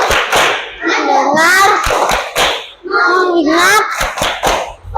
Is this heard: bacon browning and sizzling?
no